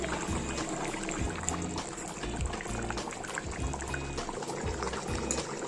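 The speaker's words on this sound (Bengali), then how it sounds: "তার জন্য আমি হাই ফ্লেমে 5 মিনিট ফুটিয়ে নেব।" Hilsa fish in mustard gravy boils over a high flame, giving a continuous close bubbling and sputtering with soft popping.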